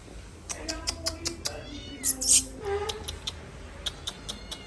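Several cats meow nearby in a quick series of short cries, with one louder, longer yowl in the middle, over faint background room noise.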